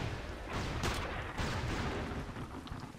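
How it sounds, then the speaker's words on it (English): Cannon fire in the war shooter Iron Storm: a continuous barrage of heavy booms and rumbling blasts over a dense noisy background, loud and sustained throughout. "I'm getting, like, bombarded by these cannons."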